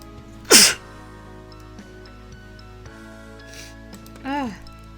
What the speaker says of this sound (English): I tried to mute myself when I sneezed